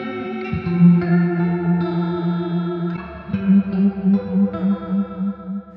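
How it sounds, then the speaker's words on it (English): Electric guitar through a Vox VT20X/VT40X amp's analog-style effects: warbling chorus and light distortion with echo, sustained chords shimmering and swirling, played alone. "they've taken 12 analog style effects and piled them in here to where they sound amazing"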